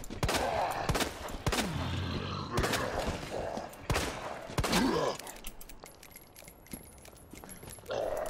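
Gunfire from guns in the Resident Evil 2 video game, a series of sharp, loud shots fired at irregular intervals amid growls and groans, with a player talking in between.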